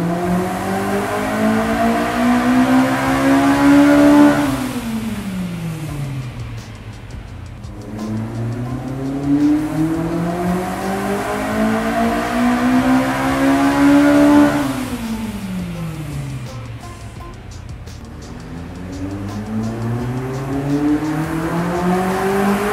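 A naturally aspirated VW Parati engine, tuned to make about 150 wheel horsepower, revs hard on a chassis dynamometer. It runs up through the revs in three loud rising sweeps, dropping off between pulls, with a steady roller drone underneath.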